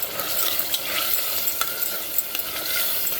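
Tomatoes cook in a pan for a mutton mango curry, with steady stirring clicks and scrapes over a soft, continuous sizzle.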